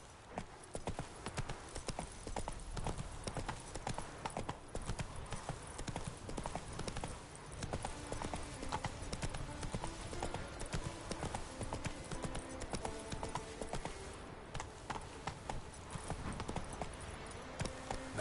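Roach the horse's hooves pound in a quick, steady galloping clip-clop in The Witcher video game, continuous and fairly faint beneath game ambience, with no voices.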